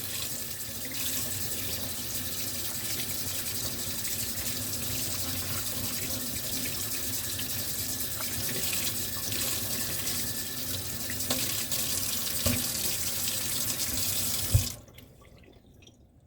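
Cold tap water runs steadily into a sink to rinse a raw cow tongue, a constant close splashing hiss that ends abruptly when the faucet is shut off.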